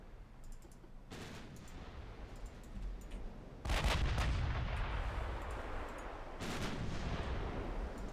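Naval guns fire explosive rounds in the warship battle game Ultimate Admiral Dreadnoughts. A few distant, muffled booms land at intervals, one noticeably heavier, over a low rumbling background.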